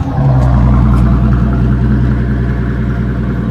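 A concept car's engine fires up on the key and settles into a loud, steady low rumble with a slight rev at the start, close by, with no talking over it.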